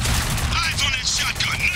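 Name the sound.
turret gunfire in the video game Spec Ops: The Line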